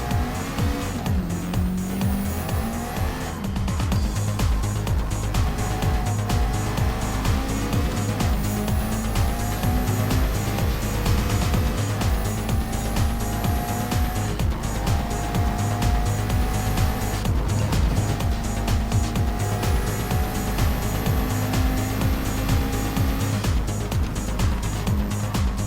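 A car engine races in a driving video game, revving hard and continuously with gear changes and bursts of tire squeal, loud and close for the whole stretch.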